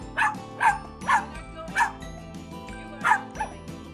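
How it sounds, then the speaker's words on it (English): A black Cavapoo barking and yipping in short, sharp bursts, about seven high-pitched barks in quick succession with a whiny edge, close and clear with no talk. "he'll start barking at you like he's scolding you"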